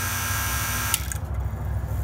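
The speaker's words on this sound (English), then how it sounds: "Now we're going to turn off the pump." A vacuum pump hooked to a car's R-134a air-conditioning system drones with a steady electric buzz, then cuts off about halfway through, its high whine dropping away while a lower hum lingers as it winds down.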